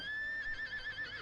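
A horse in the One Piece anime lets out a single drawn-out, high whinny with a wavering pitch, clear and close, lasting about a second.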